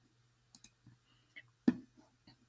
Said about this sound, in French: je vais cliquer sur les trois petits points